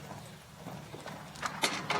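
Horse hooves thud on the course during the show jumping phase of the men's individual modern pentathlon at the 2015 UIPM Senior World Championships. A few soft beats come near the end over faint arena ambience.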